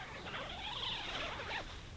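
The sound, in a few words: one-way zipper on Naturehike Vik 1 tent mesh door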